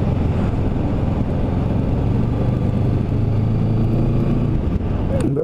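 Vehicle engine droning steadily while driving around, captured from a helmet-mounted GoPro, with heavy wind buffeting the microphone and a low continuous rumble throughout.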